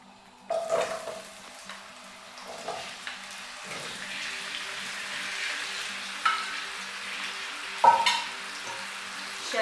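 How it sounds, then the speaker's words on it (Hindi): Mutton and onions fry in plenty of hot oil, with a steady sizzle throughout and occasional stirring scrapes and clinks of a utensil against the pot. "इसी ऑयल में फिर हम प्याज और मटन फ्राई करेंगे।"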